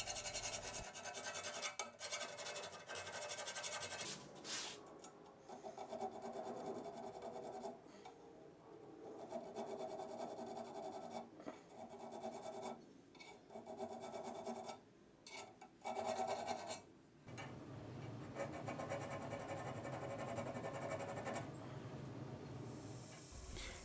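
A forged Bowie knife blade filed by hand, steady rasping strokes of the file grinding back and forth in a continuous rhythm, with brief pauses between passes and no talking.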